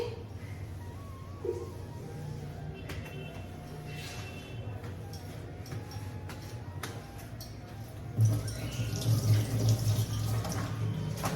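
Tap water runs quietly into a sink during cleanup after washing fish, a soft continuous trickle with a few drips and clinks, growing louder and fuller near the end.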